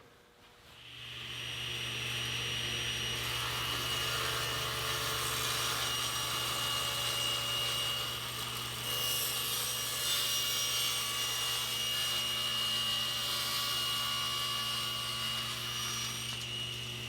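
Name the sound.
saw cutting a taper on a wooden table leg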